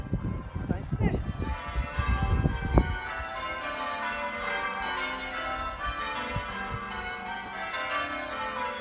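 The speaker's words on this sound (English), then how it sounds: "Oh, it's the church bells, isn't it?" Festive church bells ring across the Cotswolds at Christmas, heard from inside a van as a steady layered peal with a louder thump early on, while people talk over it.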